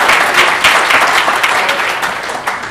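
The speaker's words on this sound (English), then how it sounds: "I think a round of applause to everyone here." Audience members at a SharePoint Saturday conference in Johannesburg applaud in a loud, dense round of clapping that holds steady and tapers slightly toward the end.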